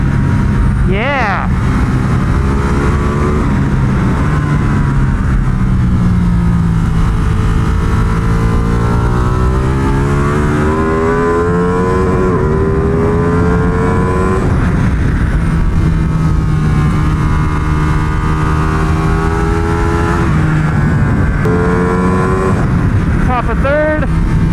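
A Ducati Panigale V2 or MV Agusta F3 800 RC Italian superbike engine revs hard while riding, loud and close, rising and falling through the gears with a voice talking over it.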